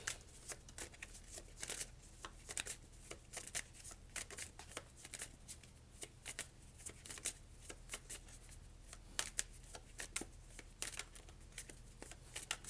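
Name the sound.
shuffling tarot cards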